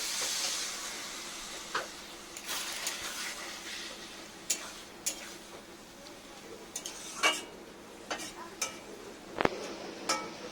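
Chopped banana stem and potato cooking in a pot after a little water is added, with a soft steady hiss of steam and scattered sharp spoon clinks and stirring knocks.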